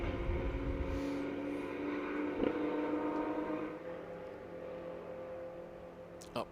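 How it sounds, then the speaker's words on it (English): TRG Racing Porsche GT4 race cars drive through Watkins Glen during qualifying, a steady engine drone at moderate distance that fades slowly toward the end, with no talk. "Here at the 17, the TRG Racing Porsches being chased."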